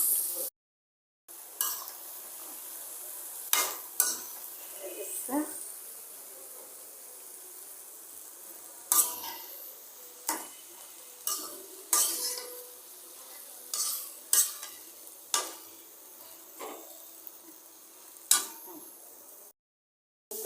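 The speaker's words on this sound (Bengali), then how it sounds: "আলু দিয়ে দিচ্ছি, দেখেন কেমন হয়" Potatoes go into hot oil in a pan for a home-cooked tilapia fish dish, giving a soft, steady sizzle with repeated scraping and clinking stirs of a utensil against the pan, close and fairly quiet.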